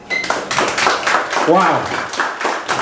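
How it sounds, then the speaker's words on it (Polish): A small audience at an illusionist's show breaks into a brief burst of clapping, with scattered hand claps heard under a voice that speaks over them. "Dziękuję bardzo za te spontaniczne brawa"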